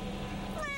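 A rescued cat lets out a single rising meow, close and clear, near the end of a brief moment of room noise, with no talking over it.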